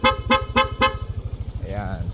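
Four sharp, loud blasts from a Hella Chrome Twin horn fitted to a Yamaha NMAX V1 scooter sound in quick even rhythm, close up over the scooter's idling engine, followed by a brief rising tone.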